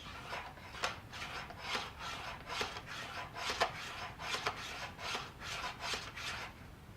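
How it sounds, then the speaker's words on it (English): Cucumber pushed by hand across a mandolin slicer makes a quick series of about a dozen soft, rasping scrapes in a steady rhythm, close and fairly quiet. "put the cucumber in the mandolin. And I'm going to, very carefully with your fingers, I am going to push."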